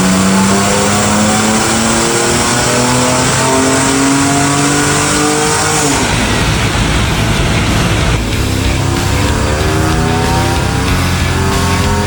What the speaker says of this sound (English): The dyno pass on the Ranger Raptor.